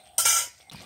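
A metal lid set onto a cooking pot of village-style country chicken with chopped tomato, a bright clattering clink followed by a brief ringing settle and a softer second touch, close and alone.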